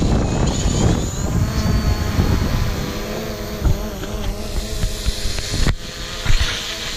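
A DJI Mavic Pro drone launches from a raft at a beach campsite, its propellers whining and buzzing loudly and close as it lifts off and flies, with wind and splashing underneath.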